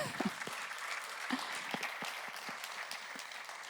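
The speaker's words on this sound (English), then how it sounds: "Can we give them a round of applause?" An audience at a NATO youth event claps in a sustained round of applause, steady dense clapping with a few louder bursts near the start, heard alone without talk.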